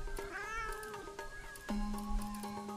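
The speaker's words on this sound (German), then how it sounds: "Eine Katze." A cat in Kena: Bridge of Spirits meows a couple of times, a clear near, drawn-out tonal call, over soft game ambience and a sustained tone.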